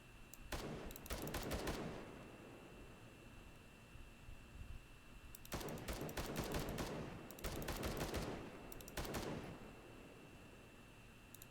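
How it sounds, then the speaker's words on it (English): A vehicle gunner in the video game Squad fires a machine gun into a hillside in several sustained bursts, loud and close, separated by short pauses. "Also, the gunner is shooting into the hill now."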